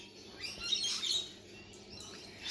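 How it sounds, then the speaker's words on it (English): Corellas give harsh, raspy screeching calls in short bursts, fairly close and loud with a flock of birds around. "Let's go over here and say hi to these corellas"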